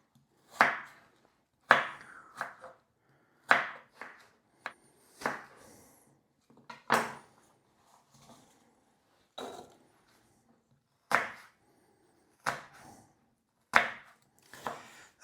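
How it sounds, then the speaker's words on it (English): Knife dicing Granny Smith and Pink Lady apples on a cutting board: about a dozen sharp, close chops spaced roughly a second apart, each followed by a brief softer tap, with quiet pauses between and no talking. "Okay, we're just about finished dicing up these 2 apples, our Granny Smith and our Pink Lady."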